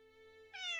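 A cat meows in a video game scene: a steady tonal backdrop, then one bright, rising meow near the end, clear and close.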